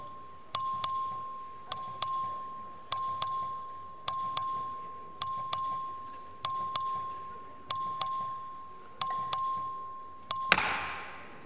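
A bell in the Texas House chamber rings repeatedly for a record vote, about ten evenly spaced bright dings, moderately loud, with a faint room murmur between strikes.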